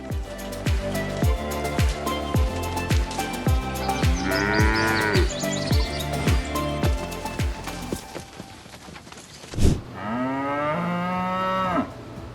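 Nelore bulls bellow in a long series of loud, drawn-out moos, one after another at close range, followed after a brief pause by another deep, sustained call.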